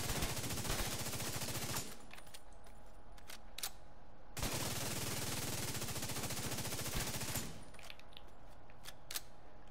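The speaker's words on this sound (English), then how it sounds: "We're going to fire all headshots." Rapid bursts of automatic fire come from a video game weapon shooting headshots at a target five meters away, with two long strings of shots split by short pauses and scattered single shots.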